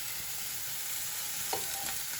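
A knob of butter sizzles in a frying pan beside a fillet steak, a close, steady hiss with one brief scrape of movement partway through, with no voices.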